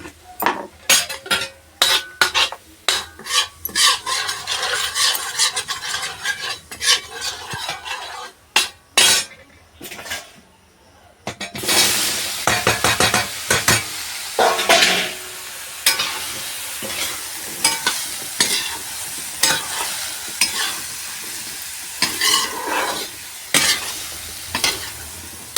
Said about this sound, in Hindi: लहसुन भुजी गो और मसाला डालते हैं।